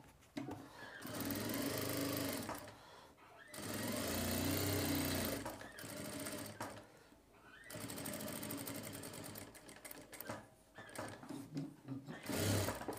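A sewing machine stitches a shirt collar in bursts, its motor whirring up and down through several runs separated by brief pauses, with rustling of fabric between them.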